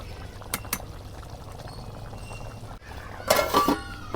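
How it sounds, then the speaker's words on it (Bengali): Rice for beef biryani bubbles and churns in a pot, a steady low simmer that swells into a louder burst of frothy boiling near the end, with faint background clatter. "এই দেখো কি সুন্দর করে বলে করছে, চালটা ফুটে আইতেছে।"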